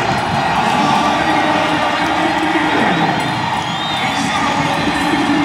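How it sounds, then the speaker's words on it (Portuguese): A football stadium crowd at a Girabola match between 1º de Agosto and Libolo applauds a substitution, making a broad, steady roar of clapping and cheering from the stands with a commentator's voice over it. "E parece que o público aplaude"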